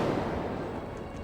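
Incendio fire spell cast in Hogwarts Legacy, a short whooshing roar of flame like a muffled blast that fades over about a second.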